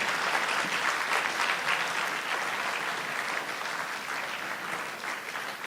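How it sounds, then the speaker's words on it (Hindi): Sustained applause from a theatre festival audience greeting seven performers on stage, dense and steady throughout at fairly even loudness. "और जोरदार तालियों से अभिनंदन सभी सातों कलाकारों का"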